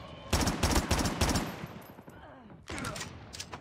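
Bursts of automatic gunfire from a burst gun in a Call of Duty Mobile multiplayer match: a loud volley of four rapid shots, a pause, then another quick run of shots, with game sound effects between.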